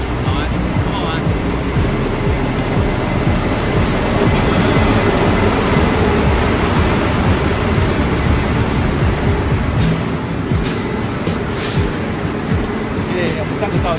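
A train running on rails, a loud continuous rumble of wheels and carriage noise with a brief high squeal near the end, heard from close by; voices talk over it.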